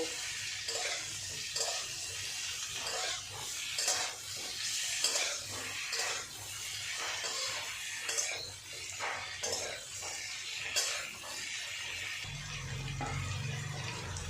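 Eggplant and small fish frying together in a pan, a continuous soft sizzle with repeated rhythmic stirring scrapes, close but quiet throughout.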